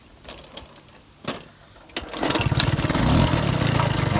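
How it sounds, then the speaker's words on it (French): A few clicks and mechanical knocks, then a small two-stroke Peugeot 103 Vogue moped engine with a variator catches and sputters into a loud, buzzing run close by. "Voilà, ça démarre en quart de tour."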